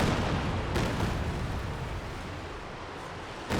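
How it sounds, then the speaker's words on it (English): A Katyusha rocket artillery barrage in the war game Company of Heroes 2 makes a dense, continuous rumbling roar of launches and blasts, easing slightly before a fresh burst at the end. "Here comes a Katyusha wiping out both of those Panzer Grenadiers."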